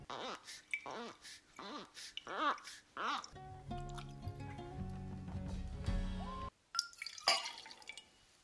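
Aquavit poured into a chilled cocktail shaker: a series of close liquid glugs and drips, then a steady gurgling pour ending in a short clink and splash, quiet overall.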